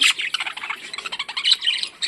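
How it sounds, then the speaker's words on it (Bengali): A flock of budgerigars, including young birds, chirps and chatters continuously, rapid high tweets overlapping at close range with no pauses. "এই পাশে পাখিগুলোকে দেখুন একবার"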